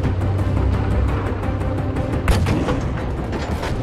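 Gunfire and explosions in the video game Battlefield V, a dense barrage of rapid shots over a continuous loud rumble, with one heavier boom near the middle.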